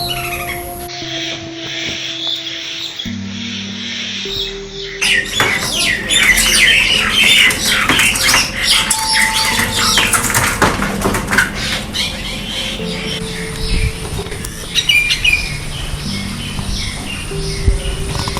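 A common myna calls up close in loud, varied squawks, chatters and whistles, with several shifting phrases following one another.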